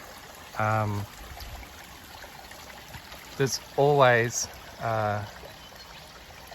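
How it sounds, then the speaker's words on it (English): A small creek runs through a fern forest, its steady, soft water babble continuing beneath someone talking in short phrases. "because of this little creek that is running through"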